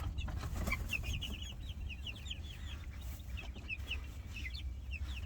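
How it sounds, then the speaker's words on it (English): Several chickens clucking in a coop, quick soft clucks and chatter scattered throughout at a moderate distance over a steady low background hum. "Gotta love chickens."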